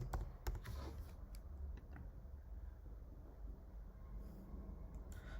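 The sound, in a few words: typing a Gmail password on a computer keyboard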